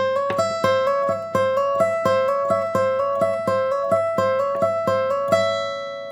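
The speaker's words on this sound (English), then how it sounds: "you're going to sort of play like a rolling sort of hammer-on lick that sounds like this" A clean guitar plays a fast, steady rolling hammer-on lick, the same quick note pattern cycling evenly without any talking.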